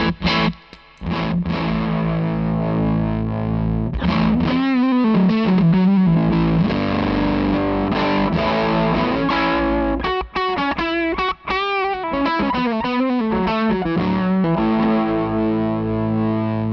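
Heavily overdriven electric guitar through an Argenziano Effetti Voodoo '67 pedal with all knobs at twelve o'clock, playing chords and riffs, loud and sustained, with a couple of brief pauses between phrases.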